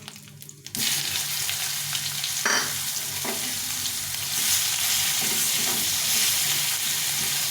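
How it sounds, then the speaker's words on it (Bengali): Onion fries in hot oil with dried red chili and cumin, a loud, dense, continuous sizzle close by that starts abruptly and swells, with a few stirring knocks and no talk. "এই শুকনো লঙ্কা আর জিরে দিয়ে এই পেঁয়াজটা দিয়ে দেবো"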